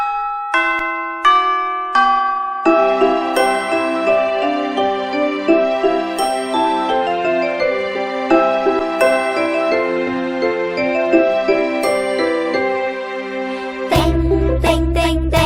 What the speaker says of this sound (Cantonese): 叮叮叮叮叮叮，下課鐘聲響了